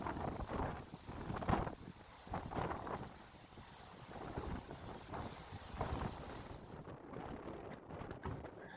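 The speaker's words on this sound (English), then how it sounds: "Storm force waves pound the Seal Cove shoreline." Storm-force waves pound a rocky shoreline in a December gale on Brier Island, a continuous roaring surge mixed with heavy wind buffeting against the microphone.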